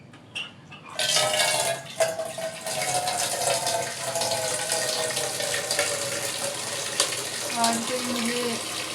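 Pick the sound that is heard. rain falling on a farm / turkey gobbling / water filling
water filling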